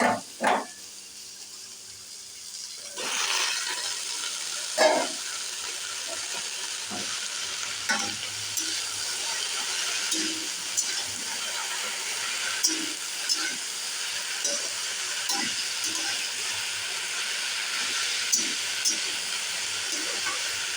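Vegetables fry in a hot pan (ridge gourd and potato, then bottle gourd and spinach), a steady close sizzle and hiss broken by repeated scraping clinks of a stirring utensil.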